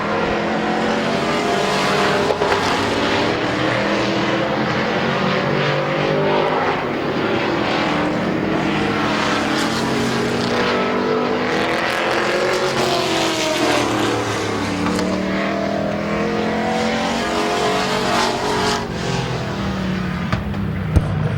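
Modified race cars run qualifying laps at Midvale Speedway, a continuous roaring engine drone that rises and falls as the cars pass, loud and sustained with no talk.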